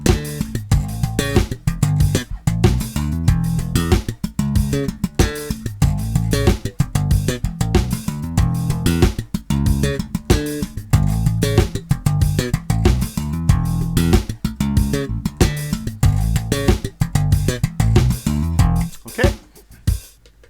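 Slap bass line played over a drum machine beat in a bass lesson, a steady busy groove of punchy low notes and percussive pops running continuously for the whole stretch.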